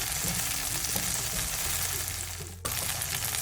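Chopped tomatoes sauté on a low flame for a Tirupati-style coconut chutney, giving a soft continuous sizzle with a low steady hum underneath and a brief dip near the end.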